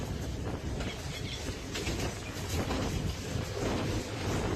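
A train runs along a straight railway line near Satkhamair station in Bangladesh, giving a steady, loud rumble with wind buffeting throughout and no pauses.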